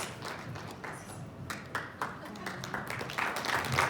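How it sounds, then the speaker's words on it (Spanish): An audience at a political forum on women in politics applauds, a fairly faint, continuous patter of many hands in a hall, with voices mixed in underneath. "Más fuerte el aplauso."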